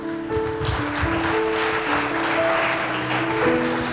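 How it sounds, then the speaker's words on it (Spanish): Church congregation applauding during a worship service, a continuous wash of clapping with music tones sustained underneath, moderately loud and steady throughout. "Dale un fuerte aplauso al Señor."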